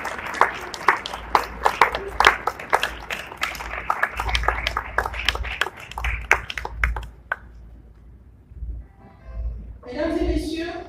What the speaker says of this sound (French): On applaudit les membres du gouvernement sous observation.